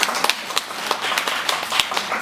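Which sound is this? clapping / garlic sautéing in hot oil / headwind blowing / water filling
clapping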